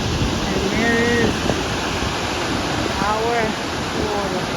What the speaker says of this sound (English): our waterfall. Isn't that place amazing?